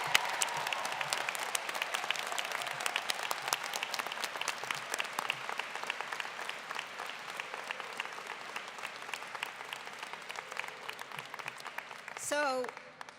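A commencement audience applauds honors students with sustained, crisp clapping from many hands throughout, and a voice briefly rises near the end.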